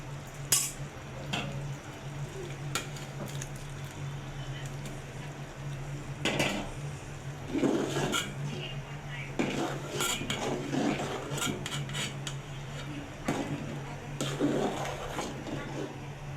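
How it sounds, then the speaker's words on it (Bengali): Cooked, browned meat tips into a pot of simmering haleem lentils, giving scattered metallic clinks and scrapes of utensil on the pot with soft, wet thuds over a steady low hum. "এরপর আমি কষানো মাংসগুলো এর মধ্যে ঢেলে দিয়ে দিব।"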